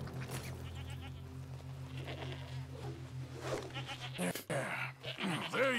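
Alpine goats bleat in Red Dead Redemption 2, several wavering cries rising near the end over a steady low game ambience, with a loud close bleat at the finish.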